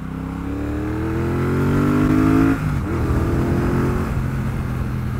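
Triumph Bonneville Bobber 1200 motorcycle ridden hard, a loud close engine note climbing steadily through the revs, then a brief dip at a gear change before pulling on again with a deep throaty drone.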